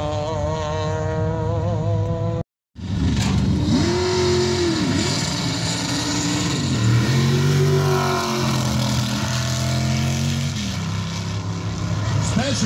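Race car launching off the line at the Mt. Washington hill climb during practice, its engine revving hard through rising and falling gear pulls, loud and close, with a commentator talking over it.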